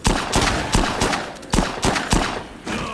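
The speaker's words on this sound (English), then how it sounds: "She keeps shooting me." Repeated gunshots ring out in Dead Rising 2, a series of loud, sharp reports in quick irregular bursts with a short echoing tail after each.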